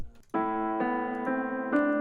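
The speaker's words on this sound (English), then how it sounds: "I actually came up with this Analog Lab piano." An Analog Lab software piano with EQ strikes chords in a steady, repeating pattern, about four evenly spaced hits, clear and moderately loud with nothing else present.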